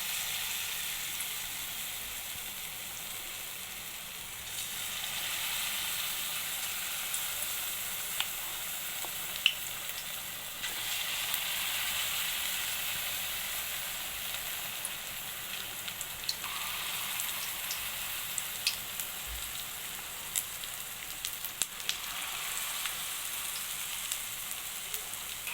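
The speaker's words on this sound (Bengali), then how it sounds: "তারপরে আমি বড়াটা ভাজতে দেব" Lentil fritters (dal bora) fry in hot oil over a low flame in a wok, giving a steady, close sizzle with scattered pops and crackles and a few soft clinks.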